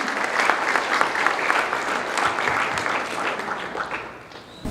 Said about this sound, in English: Let's give a big round of applause to welcome him.